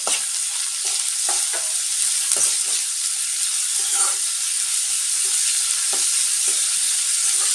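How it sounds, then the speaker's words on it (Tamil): Onions sauté with a pinch of salt in a pan for baby corn gravy, a steady close sizzle running throughout, with soft scraping stirs and light clicks of the spoon breaking through every second or so. "வெங்காயம் சீக்கிரமாக வதங்கி வரக்காக கொஞ்சம் உப்பு சேர்த்துக்கலாம்"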